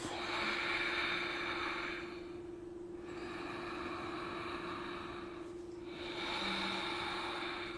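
Slow, steady yoga breathing, long airy inhales and exhales rising and falling in two or three cycles, close and soft over a faint steady background hum.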